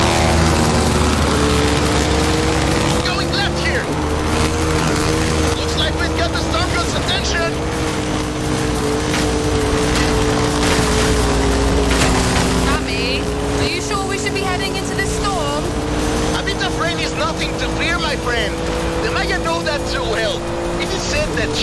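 Cars racing in Forza Horizon 5 on PC at maximum settings, engines droning and shifting pitch continuously with tyre and passing whooshes, while someone talks over the game sound throughout.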